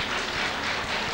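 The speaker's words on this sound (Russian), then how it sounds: "Так, аплодисменты Леши." A TV game show studio audience at the season final of the show Pyramid gives a brief burst of full, even applause, with dense clapping filling the whole moment.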